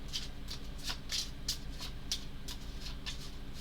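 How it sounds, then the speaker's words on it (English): A deck of Arkham Horror card game cards is shuffled quickly, with about ten crisp, close riffling bursts in a steady rhythm over a low background hum. "6 copies of Arkham Woods that we will now shuffle quickly"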